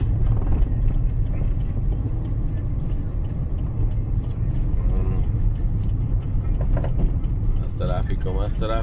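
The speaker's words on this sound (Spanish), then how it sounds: "Más tráfico, señores." Road traffic near Costa Esmeralda on a highway slowed by an accident, a loud steady rumble of vehicle engines close by, with someone speaking over it.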